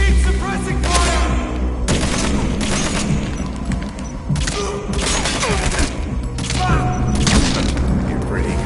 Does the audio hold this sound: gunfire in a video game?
yes